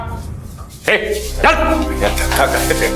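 A couple of sharp barks from a stray street dog close by in a lane, followed by a low continuous rumble, with a voice talking over them.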